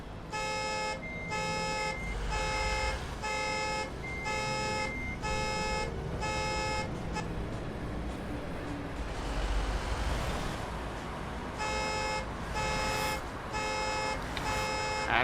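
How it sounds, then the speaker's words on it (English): Car alarm in American Truck Simulator sounding in repeated pulsing bursts of bright electronic tones, pausing for a few seconds of noisy rumble before the pulses resume, steady and fairly loud. "I hear the car alarm going off."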